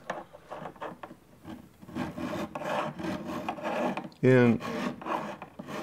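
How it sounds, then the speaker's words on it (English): A hand file rasps across wood held against a wooden block, a run of close, rhythmic scraping strokes, with someone talking over it and a brief louder tonal knock near the end. "I'm going to use my trusty file and a wooden block"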